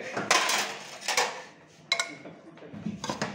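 A pressure cooker of boiled dal is opened in a kitchen, giving a few sharp metallic clanks and rattles of the lid and pot, with brief pauses between them.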